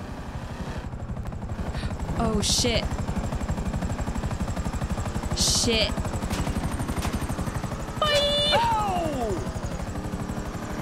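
Helicopter in Grand Theft Auto 5 chasing the player's car, its steady rotor chop running loud throughout with bursts of game effects, while someone speaks briefly over it.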